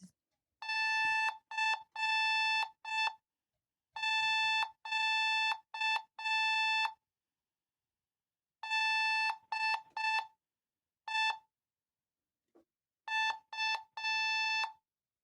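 Sequences of steady high-pitched beeps, short and long tones grouped with pauses, tapping out Morse code at an unhurried pace.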